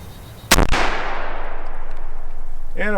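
A single sharp gunshot from a Shiloh-Sharps Cavalry Carbine rifle cracks loudly and close, followed by a long fading outdoor echo and tail; a short voice sound comes in near the end.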